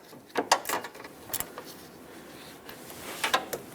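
Wrench snugging AC line mounting nuts on a Ford E-350 during a condenser replacement, a few sharp metallic ratcheting clicks and scrapes in short bursts, close and moderately loud.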